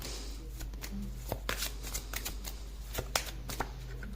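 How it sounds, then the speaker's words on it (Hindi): Tarot cards are shuffled by hand in a quick run of soft riffling flicks and taps, close and clear over a low steady hum. "तो मैं जिया के लिए एक कार्ड ले लेती हूँ इस रिलेशनशिप के लिए।"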